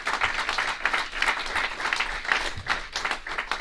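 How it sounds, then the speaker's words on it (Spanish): A church congregation at an Easter service applauds, a sustained wash of many hands clapping at moderate distance, fairly quiet and continuous. "Denle un aplauso al Señor."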